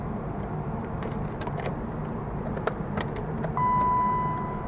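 Keys jingle softly in a short clatter inside a BMW E30 M3, then the ignition is switched on and a steady electronic tone and hum come up, all nearby with no talking.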